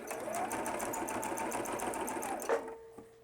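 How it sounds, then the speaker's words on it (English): A sewing machine stitches rows quilting fabric onto cotton batting for a small keychain piece, a steady, fast rhythmic whirr with regular needle ticks, close and continuous, ending with a brief clunk as it stops. "I'm going to keep stitching. I'm going to do every 1/2 inch or so. I'm going to do another row of stitches until I'm finished."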